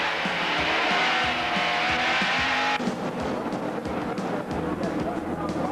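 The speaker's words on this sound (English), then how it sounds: "Bill Elliott drives down in the corner, sees the smoke, heads for the infield" Stock race cars roar around a track with a dense, continuous engine drone at close range, with tire noise and a sharp shift in the roar partway through.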